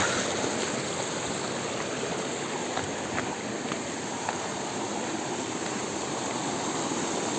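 A river stream in the Konkan countryside flows with a constant, even rushing and babbling of water, heard close and steady throughout, with a few faint clicks but no talk.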